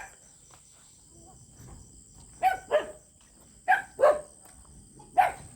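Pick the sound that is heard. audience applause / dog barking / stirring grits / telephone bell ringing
dog barking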